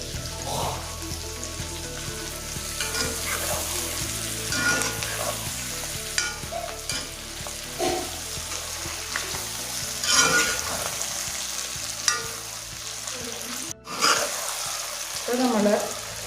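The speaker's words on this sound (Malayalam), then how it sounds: "ഇനി നമുക്കിതിലേക്ക് എടുത്തു വച്ചിരിക്കുന്ന തക്കാളി കൂടി ചേർക്കാം." Tomatoes and curry leaves fry in a pan for chicken curry, a continuous sizzle broken by stirring scrapes and clinks.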